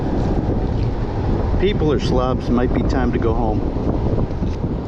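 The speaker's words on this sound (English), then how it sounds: "Please pardon the wind in this part, but it's the start of a hurricane." Strong wind buffets the microphone on a beach at the start of a hurricane, roaring steadily throughout while a person talks over it midway.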